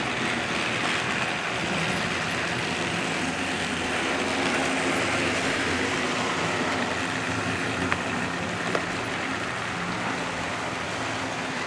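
A steady running rumble of a model circus train on track, continuous and fairly close, with a couple of faint clicks near the end.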